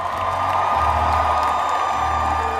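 An arena crowd at a Fever basketball game cheers and whoops in a steady, loud roar that fills the whole moment without a break.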